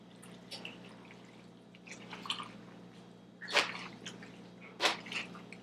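Melting cheese for macaroni and cheese is stirred in a pan, giving soft wet squishes and scrapes with a couple of louder sticky smacks, close and alone.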